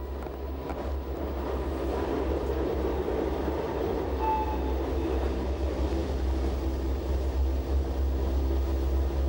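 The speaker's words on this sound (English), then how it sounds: "Our driver switches the lever from adhesion to rack to change the traction motor's power from the adhesion wheels to the cogwheel" An Appenzell Railways rack railway train runs on its cogwheel along the Riggenbach ladder rack, a steady low rumbling drone with wind noise, continuous and fairly close, with no talking.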